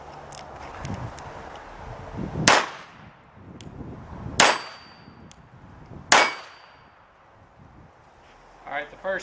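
Three sharp, loud reports from a Sig Sauer Mosquito pistol firing Winchester Varmint 22LR 37-grain rounds at a range, spaced about two seconds apart, followed by a fainter metallic rattle at the end.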